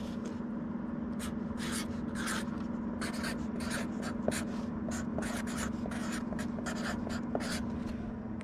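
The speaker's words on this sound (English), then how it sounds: "This person asked me to write "Do not bend" on the outside, so let me do that here." A marker scratching "Do not bend" onto the outside of a package, short bursts of pen strokes in an uneven rhythm, close and clear, with a steady low hum underneath and a couple of faint clicks.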